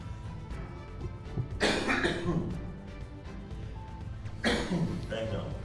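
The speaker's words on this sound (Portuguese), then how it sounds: "É tosse. Ao vivo é assim mesmo." A person coughs twice during a live broadcast. The coughs are close and sharp, a few seconds apart, over a low background murmur.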